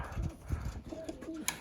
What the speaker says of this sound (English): Up here, I got all the young birds.